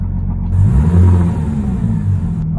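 A car engine running on alcohol fuel revs close by, with a steady low rumble that swells and surges as it is pushed, then settles back to a strong idle.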